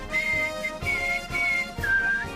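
A man whistles along with music, four sustained clear notes in a slow rising-and-falling phrase, close and moderately loud over a soft musical backing with no talking.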